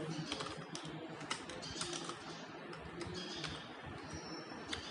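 Computer keyboard typed while entering C++ code, with a quick, irregular run of light key clicks throughout, fairly quiet and close, no talking.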